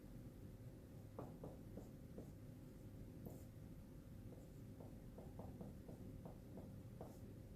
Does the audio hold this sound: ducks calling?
no